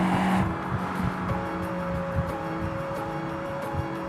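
A Volkswagen Golf A59 prototype is driven, its engine humming steadily from inside the car with a faint whine and occasional soft thumps from the road, and no one speaking.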